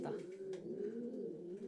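A racing pigeon coos softly in a low, continuous throaty murmur, faint and close, lasting under two seconds.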